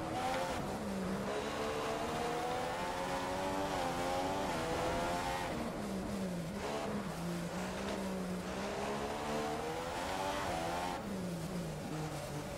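Formula 1 car engine in the F1 2015 video game at the Monaco Grand Prix, a high-pitched whine that rises and falls through gear changes and braking, continuous and fairly loud with no talk.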